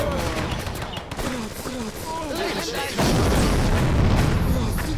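Artillery and gunfire rumble through a Blitzkrieg II World War II battle, a dense, loud barrage of booms and crackling shots that thickens midway, with a voice talking faintly over it.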